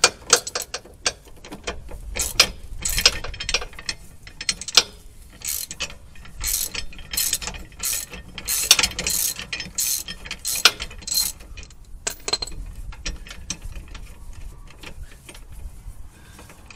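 A ratchet wrench clicks in quick, uneven bursts while loosening a 17mm bolt on the rear trailing rod of a Subaru WRX STI VAB. Metallic taps sound between the runs of clicks.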